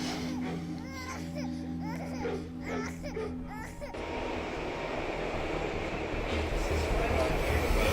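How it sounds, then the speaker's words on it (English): A moving train gives a steady broadband rumble that fills the second half, loud and continuous, after a first stretch where voices talk over the background. "Smith's on a moving train."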